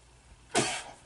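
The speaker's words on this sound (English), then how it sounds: "Sneeze." A single short, sharp sneeze bursts out close by, briefly loud against a quiet background.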